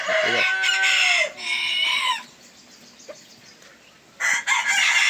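A Cochin rooster crows loudly and repeatedly close by, with long drawn-out calls, then quiet clucking of Cochin chickens before another crow starts.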